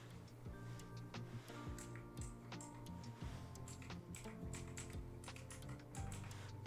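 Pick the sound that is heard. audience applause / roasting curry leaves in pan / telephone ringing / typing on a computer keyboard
typing on a computer keyboard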